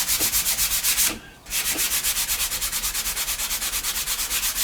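Wood hand sanded with 150 grit sandpaper, a steady rhythmic back-and-forth rasp close by with many even strokes and one short pause, no talking.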